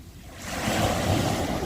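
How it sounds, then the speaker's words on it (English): Sea waves rolling onto the shore at Dover, a steady, broad wash of surf that swells louder after a quieter start, with wind buffeting the microphone. "And there are more waves for you"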